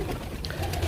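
Pigeons coo softly in a brief moment, one or two low, rolling calls heard close against a quiet background.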